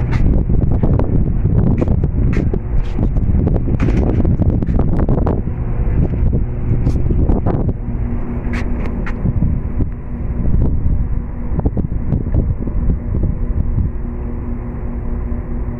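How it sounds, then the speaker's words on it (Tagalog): Strong wind buffets the microphone outdoors at a tomato planting plot, with loud, continuous roaring gusts and rustling underneath throughout. "Lakas ang hangin."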